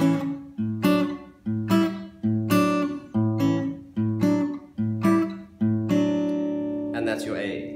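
An electric guitar plays a 12-bar pentatonic pattern in A, with evenly spaced plucked notes repeating in a steady rhythmic figure and ending on a ringing, sustained note.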